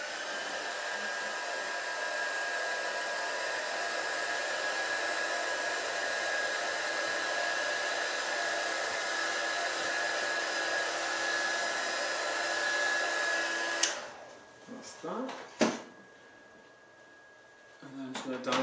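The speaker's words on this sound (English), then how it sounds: "I'm just going to quickly dry that off again, just because it's watercolour" A hair dryer drying watercolour paint on a handmade card, a steady close whirring hum for about fourteen seconds that then cuts off, followed by a few handling sounds and brief speech.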